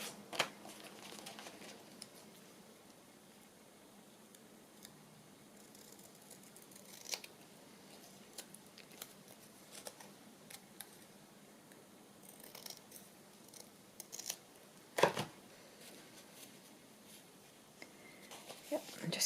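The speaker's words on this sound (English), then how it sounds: "Just need to trim it a little bit." Scissors trim a small paper label for a decorated bird journal, giving quiet, sparse snips and paper rustles with one sharper cut near the end, close by and without speech.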